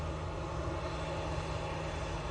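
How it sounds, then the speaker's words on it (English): An easyJet Airbus A320 takes off from Manchester Airport for Barcelona, a steady, heavy engine roar with a deep low rumble that holds at a constant level. "Right, Mighty Orange, A320 off to Barcelona now."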